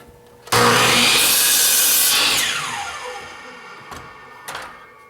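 A miter saw trims the end of a wooden board with a loud, sudden whine as the blade bites in. It holds steady through the cut, then winds down and fades, followed by a couple of faint knocks.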